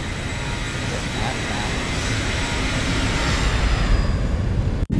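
Jet engines in the X-Plane 12 flight simulator spool up to takeoff throttle on a long runway: a steady, loud broadband roar that builds slightly toward the end, with a brief dropout near the finish.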